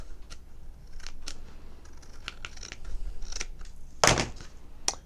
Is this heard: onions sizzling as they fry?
no